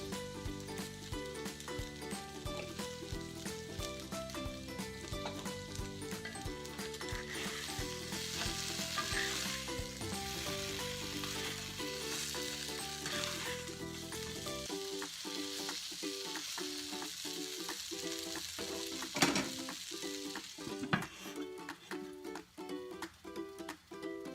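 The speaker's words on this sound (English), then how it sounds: "Now the reason for frying the powders up front is because this has got a very short cooking time" Steady sizzling of spice powders frying in hot oil for fried taro root (arvi), close and continuous, with background music playing throughout.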